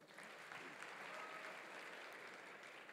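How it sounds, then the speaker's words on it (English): At a university chapel service, a congregation claps steadily for the chaplain, an even, continuous patter of many hands heard from a distance at low level for about three seconds, with no talking. "And let's clap for our chaplain also."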